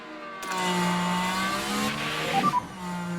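A Ferrari engine in a Bugatti car in an F1 video game, a steady high-pitched whine that starts abruptly and holds through a gear change, with a brief tire squeal near the end.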